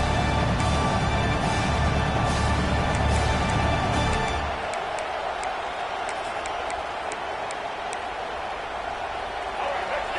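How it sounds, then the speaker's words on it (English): Home crowd noise in a college football video game, loud and busy for the first few seconds before dropping to a quieter steady murmur, with a commentator speaking over it. "Here comes this home crowd as the defense tries to get off the field on third down."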